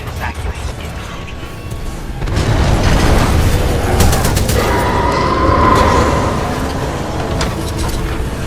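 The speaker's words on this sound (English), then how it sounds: "a series of explosions just weakened the manipulator arm" Heavy booming blasts roll through a Titanfall 2 level in a dense, rumbling series, loudest in the middle and trailing into sustained low rumble and debris noise, with game voices faintly present.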